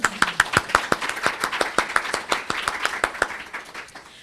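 Applause for the panelists at a library panel discussion on what employers want, a steady patter of claps from a moderate audience that gradually thins and fades out.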